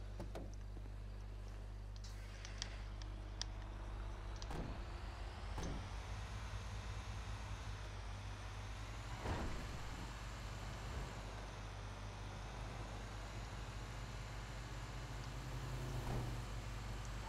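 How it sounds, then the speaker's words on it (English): A garbage truck idles in Grand Theft Auto 5, its low steady engine drone running throughout, punctuated by a few sharp clanks and thuds like doors and mechanisms, fairly quiet overall. "let's get in the garbage truck"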